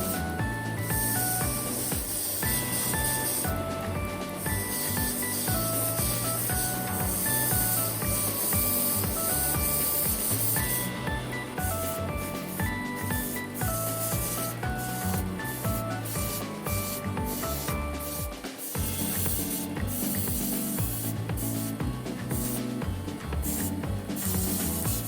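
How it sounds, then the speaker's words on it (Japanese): Belt sanding the edges and heel of a Damascus kitchen knife (N690 core, 440C cladding) with a narrow-cut abrasive belt, heard as a loud, continuous machine whine and gritty grinding that runs steadily throughout with brief changes in pitch. "細く切ったベルトで角を取りながら形を崩さず磨いていきます。"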